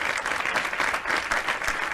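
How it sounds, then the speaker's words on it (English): Live-stream audience applause rolls on continuously: many hands clapping in a dense, lively patter at fairly loud level for the full two seconds, with no talking over it. "Let's give a round of applause."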